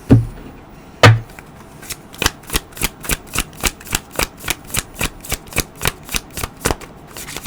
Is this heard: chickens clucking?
no